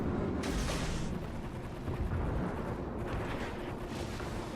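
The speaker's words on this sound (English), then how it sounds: "Fire the torpedoes, fire the torpedoes, fire the torpedoes." Torpedoes launch at an enemy ship from a Russian destroyer in World of Warships, with dense, loud rumbling booms and mechanical bursts from gameplay, no speech.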